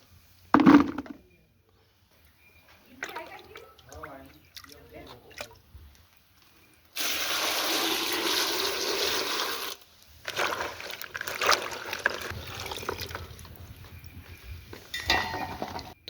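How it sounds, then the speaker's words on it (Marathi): Freshly picked bean pods being washed by hand in water, with splashing and sloshing bursts, a sustained rush around the middle and choppier splashes after, plus a few drips and a brief clink near the start. "एवढं सारं खराब पाणी निघालं शेंगा धुतल्या"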